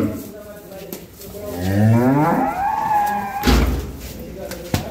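A cow at a busy cattle market lets out one long, deep, wavering moo close by, with voices of traders and a few knocks around it.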